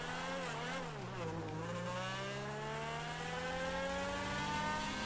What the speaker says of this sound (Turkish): Şimdi daha güzel ses çıkıyor bak. Egzozu değiştirdik arkadaşlar.